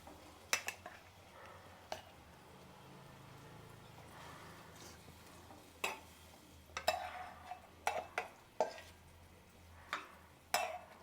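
Mackerel curry being stirred in a pot, a quiet run of scattered spoon taps and scrapes against the pot, some in quick pairs, with long hushed gaps between them.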